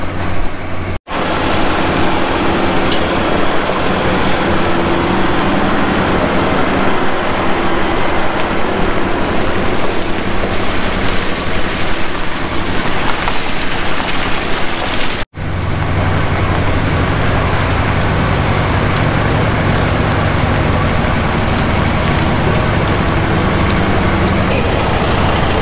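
Vehicle engine running while backing up a trailer, a loud steady rumble close by with a broad noisy wash over it and two brief dropouts, with no talking.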